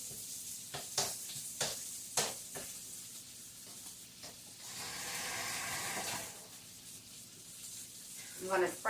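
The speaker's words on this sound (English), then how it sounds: "Flip the bacon." Bacon sizzles in a pan just after it is flipped, a soft steady frying hiss with intermittent clinks and scrapes of a utensil. A swell of louder sizzling comes midway, and someone speaks briefly.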